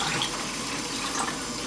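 Tap water runs steadily from a faucet into a sink during home film development with caffenol, a continuous close hiss of flowing water with no voices.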